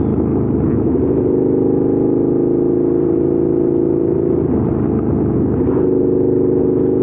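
A 2014 KTM 1290 Super Duke R motorcycle engine burbles low and steady up close, its deep rumble wavering slightly as the revs drop off.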